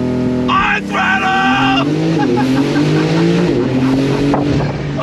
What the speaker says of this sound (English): I'm gonna be able to use some launch control